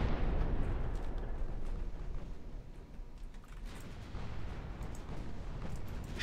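Naval gunfire hits a battleship in the Ultimate Admiral Dreadnoughts game, heard as a deep rumbling explosion that fades into a low, sustained roar of distant booms, with no talk.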